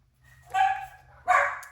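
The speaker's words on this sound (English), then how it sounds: "you hear the dogs agreeing" Dogs barking a couple of times, two short sharp barks a moment apart, fairly distant and alone in a quiet setting.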